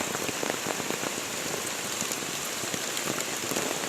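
Heavy rain pours continuously, a dense hiss of drops drumming on a surface, steady and close with no voices.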